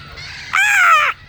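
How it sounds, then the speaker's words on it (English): Parrots in a flock give a single loud, harsh squawk, close by, rising briefly and then cutting off, with no talk over it. "Look at all those parrots."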